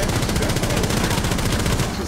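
Automatic rifle fire sprays through a wall in Rainbow Six Siege on the Border map, a loud, rapid unbroken burst of shots at close range lasting about two seconds.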